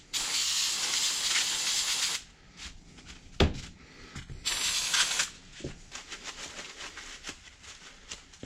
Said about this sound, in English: Got myself a little bit of carby cleaner just to do this component, that air filter housing.